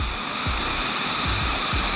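Kinabuan Falls pours in a steady, dense roar of falling water, close and constant with no voices over it.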